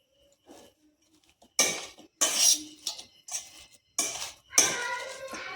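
Boiled potato, onion, green chili and coriander leaves are mashed in a bowl, producing irregular bursts of knocking and clinking from a utensil striking the dish, separated by short quiet gaps.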